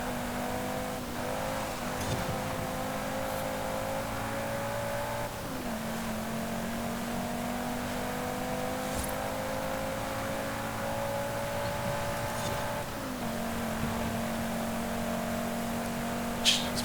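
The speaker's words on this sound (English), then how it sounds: "Probably because this actually isn't a 4-cylinder, it's the 5-cylinder, I believe." A Volvo-derived five-cylinder car engine in Forza Horizon 5 revs steadily through a night championship race, its sustained tone climbing through gears with brief drops at each shift, loud and continuous throughout.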